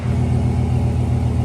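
Chevrolet truck engine idling after a remote start, a steady low rumble with an even throb, heard close and continuous.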